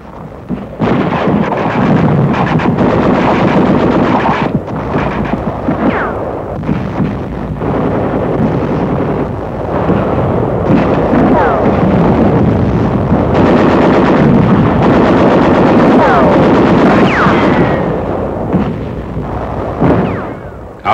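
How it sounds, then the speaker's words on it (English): Heavy mortar and gunfire from WWII combat on Peleliu, shelling from Gasebus Island about half a mile away: continuous loud booming and crackling battle noise that fills the whole stretch without pause. "Our troops also are being harassed by heavy caliber mortar fire from the Gasebus Island"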